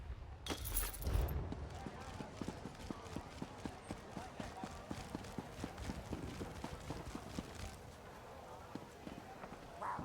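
Horse hooves clip-clop in The Elder Scrolls Online, a steady rhythmic trot of sharp, evenly spaced knocks heard fairly close, following a brief louder burst at the start.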